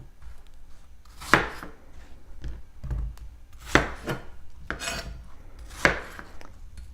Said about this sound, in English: And then each quarter I thinly slice.